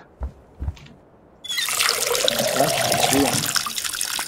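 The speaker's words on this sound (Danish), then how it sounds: "Så får vi lidt vand her." Water poured onto a plant in the Schedule I video game makes a loud, continuous splashing trickle that starts after a second and a half, following two short soft knocks.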